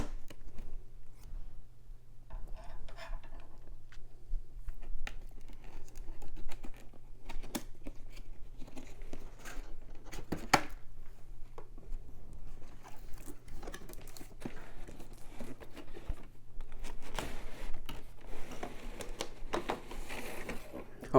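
Toy packaging for an action-figure dog sled set is cut open with a knife, giving intermittent close scraping, crinkling plastic and cardboard rustles spread over a long stretch, with occasional quiet talking.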